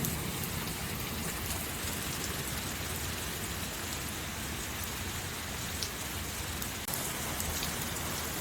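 Heavy rain blown sideways during a lightning storm, a dense, steady hiss of drops hitting surfaces nearby, with no voices.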